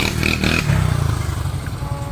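A motorcycle passes close by at a village kabaddi match, its engine giving a brief, loud, throbbing drone.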